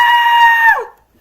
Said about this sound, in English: After Link finally finished screaming like a little girl.